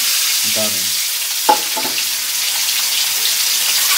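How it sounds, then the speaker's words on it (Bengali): Eggs frying in hot oil in a home kitchen, a steady, dense sizzle that holds for the whole stretch, broken by a couple of brief utensil clanks and faint tonal sounds. "এখন আমি তেলটা গরম হয়ে গেল, প্রথমে ডিমটা ভেজে নিচ্ছি"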